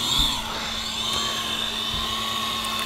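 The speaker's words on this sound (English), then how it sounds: "I want to be quiet and get fairly close so you guys can hear this crazy, large, loud drone." A huge, loud multirotor drone flies nearby, giving off a steady, high, whining buzz with a lower motor hum that holds unchanged and close for the whole stretch, with no voices.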